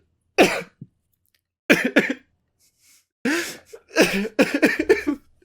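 Close-up bursts of coughing tangled with laughter, coming in several fits separated by short silent pauses.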